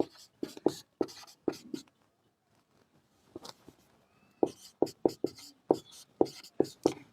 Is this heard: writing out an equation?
yes